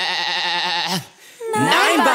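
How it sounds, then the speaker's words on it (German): Cartoon sheep bleating inside a children's farm song, two wavering animal-like cries separated by a short pause, loud and close against the music. "Nein, Bartolito, das ist ein Schaf!"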